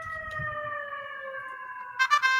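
A wailing electronic siren with steady tones slowly bending in pitch, fairly prominent, with a burst of sharper chopped yelping tones near the end and faint background noise beneath.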